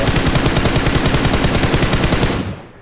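A light machine gun firing in an online shooter video game: one loud, rapid, continuous burst of automatic fire lasting over two seconds before cutting off.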